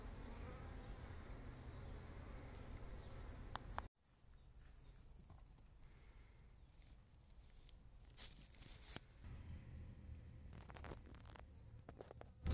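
Honeybees buzz around spring snowdrops outdoors, a soft, steady insect hum that drops out briefly and returns, with faint bird chirps now and then in the background.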